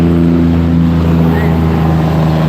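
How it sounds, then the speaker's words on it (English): Tractor trailers passing near a river in Ocoee, Tennessee, a loud, steady low engine drone and tire roar that stays close and constant throughout, with a voice faintly present. "Tractor trailers."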